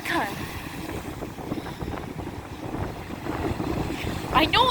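Strong wind at the seaside in Porthcawl with big waves, a loud continuous buffeting rush over the microphone with surf beneath, and a voice speaking briefly near the end.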